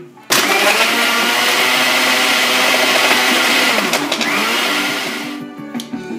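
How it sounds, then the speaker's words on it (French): A countertop blender whirs loudly and steadily, blending kiwi with freshly squeezed orange juice into a smoothie, its motor starting abruptly and running for about five seconds before winding down. "Et maintenant je vais mixer."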